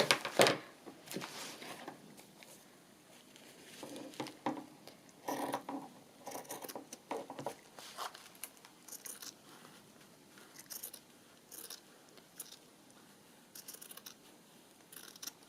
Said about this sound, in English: So I'm going to trim that off a little bit.